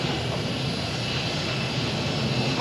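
A Bundeswehr military airplane flies past with a steady, loud engine drone that holds constant throughout, with no talking.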